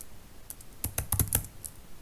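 Fingers type Python hello-world code on a computer keyboard, a quick run of distinct, close key clicks that cluster in the middle of a quiet moment with no talking.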